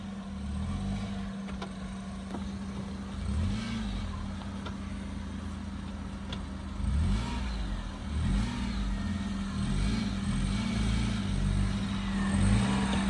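A Maruti 800 car engine strains and revs while climbing a steep offroad slope, a steady low drone with repeated rising and falling rev swells, moderately close and without talk.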